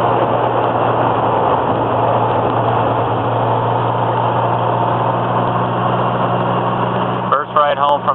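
Twin turbo Datsun Z car engine heard from the back seat while driving, a steady loud drone with low hum throughout, with a brief voice near the end.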